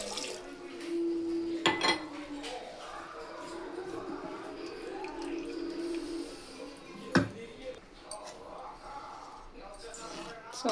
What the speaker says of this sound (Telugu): దీంట్లోకి వాటర్ ఇప్పుడు యాడ్ చేసుకుంటాం